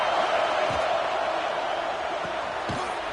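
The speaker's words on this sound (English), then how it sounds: "Listen to the crowd energy here in the early going." A stadium crowd at an Alabama versus Clemson college football game gives off a dense, steady roar that fills the space, with a couple of dull thumps standing out.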